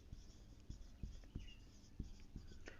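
A teacher writing the chemistry formula H2O during a Class 9 science lesson, heard as quiet, scattered taps and short strokes in an uneven rhythm over faint background hiss.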